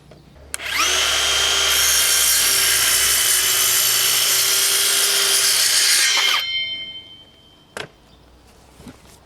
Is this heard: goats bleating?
no